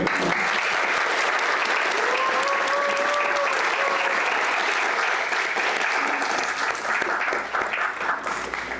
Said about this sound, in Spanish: Aplausos para ellos